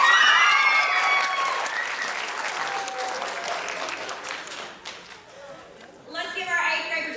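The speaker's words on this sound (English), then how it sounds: "Let's give our 8th grade participants one more round of applause" A middle school audience applauds at a literacy day event, dense clapping fading somewhat over several seconds with voices audible over it, then swelling briefly near the end.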